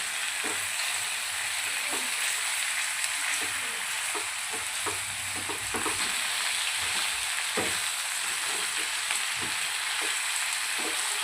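Steady hiss of chicken frying in a pan, with frequent scraping taps of a spoon stirring it, no voices.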